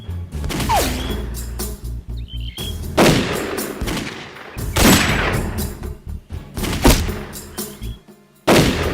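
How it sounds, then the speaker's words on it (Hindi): Repeated gunshots crack out in bursts during a police shootout in a film, loud and close, with sharp echoing blasts spaced irregularly across the span and a low rumble between them. "पुलिस आ गई, गोली चलाओ।"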